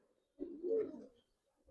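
One soft, low coo from a high flyer pigeon, brief and faint, heard alone in quiet surroundings.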